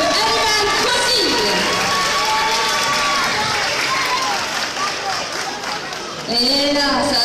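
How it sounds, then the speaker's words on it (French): A large crowd at a cosplay contest claps and cheers loudly and continuously, a dense wash of applause with a few whoops rising near the end. "Messieurs, dames, je vous demande encore de l'applaudir très fort"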